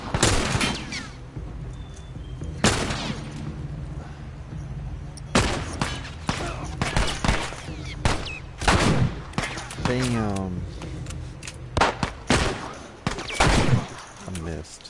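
Gunfire from The Last of Us, heard as a series of loud sharp shots in scattered bursts over about fifteen seconds, with game sounds and a voice between them.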